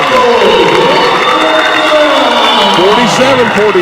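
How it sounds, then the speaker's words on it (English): Basketball crowd at a high school varsity game roaring and cheering after a two-hand dunk, loud continuous noise with shouts over it and a commentator talking. "the Cougar crowd always appreciates a nice throw down"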